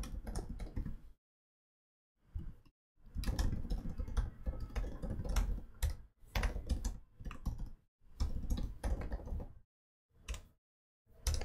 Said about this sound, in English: Let me just type some details and show it to you.